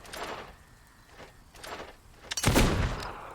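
Gunfire in the video game Fable 2: a few scattered shots spaced about a second apart, the last one louder and closer with a longer crack and tail.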